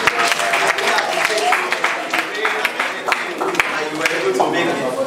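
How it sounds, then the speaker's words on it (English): An audience at the inauguration of a Lagos State community water stakeholders group claps in an uneven, lively burst while a voice talks over it. "Can we clap for ourselves?"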